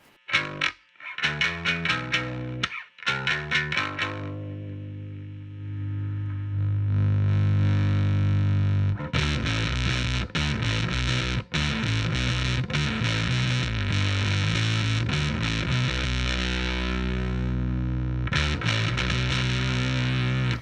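Heavily distorted, fuzzy electric guitar through a Death by Audio Octave Clang V2 octave fuzz pedal, with a buzzy octave-up edge, playing riffs and sustained chords loudly, with short pauses between phrases.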